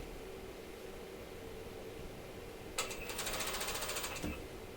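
A sewing machine stitches the main seam of a bathing suit in one rapid, evenly pulsed burst of about a second and a half, starting after a quiet stretch of room hiss.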